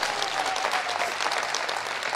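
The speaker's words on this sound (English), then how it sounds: "Clap for them." A church congregation claps warmly at a preaching service, a full, continuous round of applause holding steady without talk for a couple of seconds.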